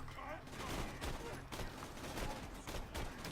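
Assault rifle fire in Borderlands 2, a dense run of rapid shots crackling almost continuously for a few seconds, with speech underneath.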